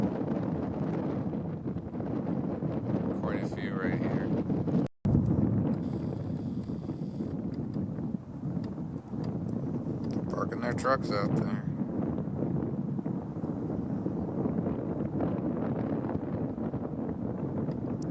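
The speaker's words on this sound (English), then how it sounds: "Alright, it's very windy." Constant wind roars and buffets the microphone while a person talks over it outdoors on a frozen lake with ice-fishing shanties in winter, in Michigan's Upper Peninsula.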